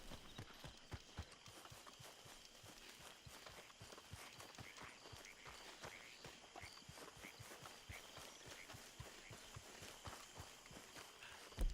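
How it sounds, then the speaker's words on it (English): Hooves of a gray Tennessee Walker horse clip-clopping in Red Dead Redemption 2, a steady, evenly paced run of crisp close hoofbeats throughout, with a faint bump at the very end. "You're a pretty gray horse"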